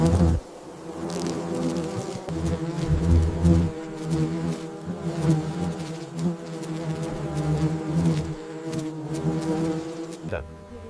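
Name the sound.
paper wasps buzzing while defending nest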